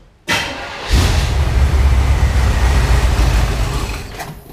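The engine of a 1980 second-generation Camaro fitted with a Holley carburetor cranks briefly, then catches and runs at a loud, steady idle close by for several seconds before easing off slightly, with no talking.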